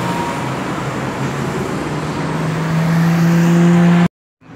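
A car drives along an empty Bangkok road with steady, close road and tyre noise, its engine tone climbing as it accelerates before the sound cuts off abruptly near the end; no one speaks.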